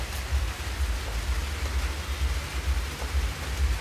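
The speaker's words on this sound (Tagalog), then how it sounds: "ang lakas na ng ulan guys." Heavy rain pours down in the Aklan province countryside at dusk, a dense, steady hiss with a deep rumbling undertone, loud and continuous with no voices.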